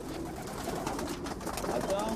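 Soft cooing of farm-raised pigeons mixed with faint background noise and a murmur of voices, low and continuous.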